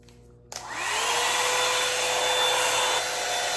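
Revlon One Step hair dryer switching on at high heat, a sudden loud steady rushing blow with a rising motor whine, close and continuous.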